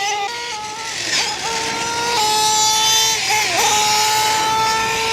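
A nitro RC car engine screams nearby with a loud, high-pitched buzzing whine, its pitch dipping and rising as the throttle changes, running continuously throughout.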